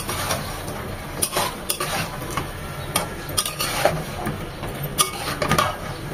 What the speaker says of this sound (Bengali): এখন এগুলো খুব ভালোভাবে মিশিয়ে নেব।